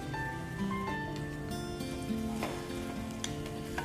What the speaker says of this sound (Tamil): இப்போ எண்ணெய் சூடாயிடுச்சு. இதில் நான் 1 கை வெங்காயம் போட்டுக்கிறேன்.